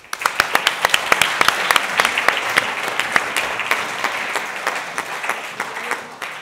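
Audience applause greets a witness at a staged hearing-style event, a lively burst of crowd clapping with distinct sharp claps that gradually thins out.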